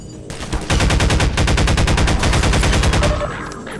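Rapid automatic gunfire from a weapon in the video game Half-Life 2, a loud sustained burst of evenly spaced shots lasting about three seconds before tapering off, with no talking.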